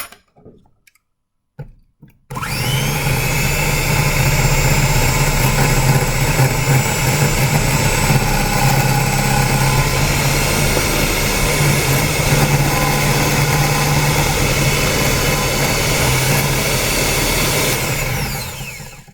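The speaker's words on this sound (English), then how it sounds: "And I'm going to whisk that into the yolk." Lemon juice and salt are whisked into an egg yolk for homemade mayonnaise: after a few quiet seconds, a loud, steady mechanical whir runs unbroken for about fifteen seconds, close and with no talking.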